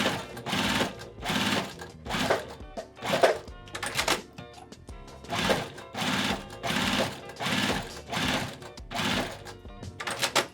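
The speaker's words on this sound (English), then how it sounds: "I'm going to sew 1/4 inch on both sides." Sewing machine top stitching a quarter-inch seam on both sides of a fabric piece for a box bag, running in repeated short bursts with brief pauses between them, close and steady throughout.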